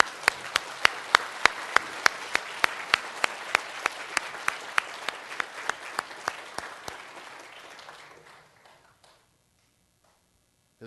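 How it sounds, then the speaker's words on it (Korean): A church congregation applauds its fathers, with steady rhythmic clapping beating in unison about three times a second, loud and close, then thinning and fading out near the end before silence. "우리 오늘 아버지에게 뜨거운 격려의 박수를 한번"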